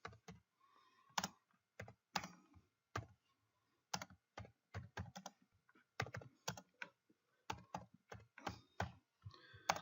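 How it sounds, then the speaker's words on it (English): Fingers type on a computer keyboard while writing code, close, quiet clicks in uneven bursts with short pauses between groups of keystrokes. "And I can do that simply by typing"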